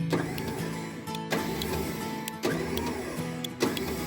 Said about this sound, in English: taking the plug off the top of the winch there, put the remote on, give it some power, and just give it a quick run